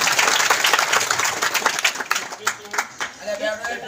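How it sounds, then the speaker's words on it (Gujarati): A crowd claps at a village gathering in Nana Kapra, a dense burst of applause that thins into scattered claps and fades, with someone speaking over it into a microphone. "ખૂબ ખૂબ તાળીઓના ગગડાટ સાથે"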